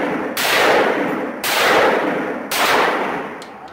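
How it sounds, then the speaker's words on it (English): Three loud full-auto bursts from an assault rifle fired at a range in Las Vegas, each lasting about a second with short gaps between them, sharp and close, with no talk over them. "it's going to fire like four rounds"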